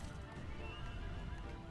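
A horse in the video game Shadow of the Colossus whinnies steadily while hooves clip-clop underneath, close and fairly loud, with no talking over it.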